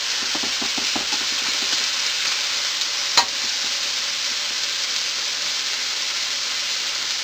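Garlic frying in a pan for Filipino pancit bihon, a steady close sizzle with a few stirring scrapes near the start and one sharp knock partway through, no talking.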